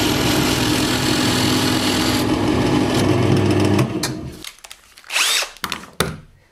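A bench drill press bores through a workpiece with an 11 mm bit, giving a loud, continuous whirring hum. The motor spins down after about four seconds, followed by a few brief clunks and rattles.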